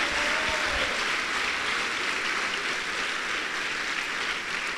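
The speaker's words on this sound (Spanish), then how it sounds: "Del aplauso al Señor" A church congregation claps together in praise during a Spanish-language service, a continuous, even roll of many hands filling the room at moderate loudness from start to finish, with no speech over it.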